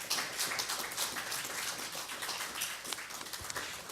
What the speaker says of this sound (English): I'd like to get a round of applause for our panelists